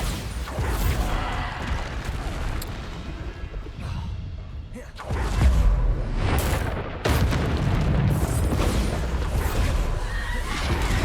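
Spell explosions from the Bombarda curse in Hogwarts Legacy land one after another, heavy booming blasts with crashing debris and rumble filling the mix almost without pause, loud and close.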